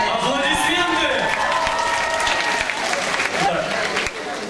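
A studio audience claps steadily throughout while voices talk over the top, the applause forming a continuous broadband wash under the speech.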